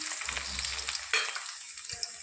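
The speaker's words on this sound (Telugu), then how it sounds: "ఇలా తాలింపు దినుసుల్ని వేసుకుందాం" Tempering spices crackle and fry in hot oil at the start of a sambar, a brief close sizzle with a bright spit near the middle, fading to a quieter hiss.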